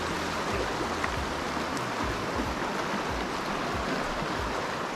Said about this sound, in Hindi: और ये देख सकते हैं नदी का पानी,